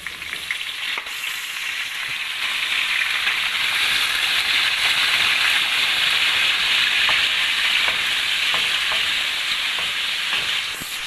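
Loud, dense sizzling of potatoes frying in a pan with browned garlic, a continuous crackling hiss that starts suddenly and holds steady, with occasional light scraping.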